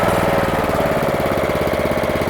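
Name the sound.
hitch-mounted core drill engine slowing down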